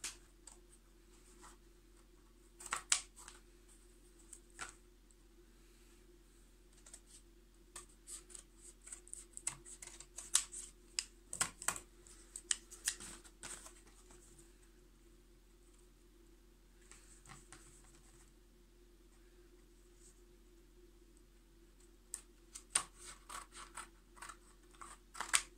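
Leather from an old boot is cut by hand, giving sparse, faint scratchy snips and scrapes with pauses between them, alone and quiet with no talking.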